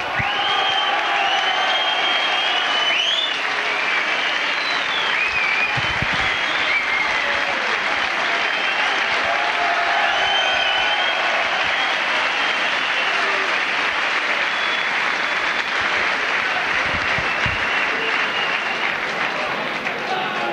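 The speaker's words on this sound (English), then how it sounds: "The big round of applause you can hear is because Chris Artwright, the big local favourite here at St Helens, coming onto the field" A stadium crowd at a St Helens versus Featherstone Rovers rugby league match applauds steadily as local favourite Chris Arkwright comes onto the field, a dense, sustained wash of clapping and cheering with a commentator talking over it.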